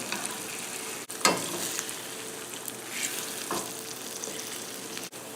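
Eggs and bacon sizzle steadily in a frying pan, a dense continuous crackle with a few louder clinks and scrapes of a utensil against the pan, close and alone without talk.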